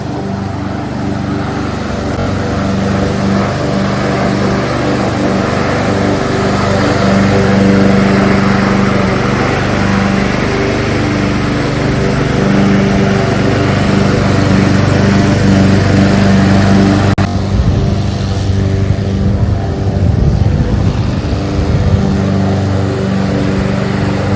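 A lawn mower engine drones steadily while cutting grass, a loud continuous hum that runs unbroken throughout, with slight shifts in pitch and load toward the end.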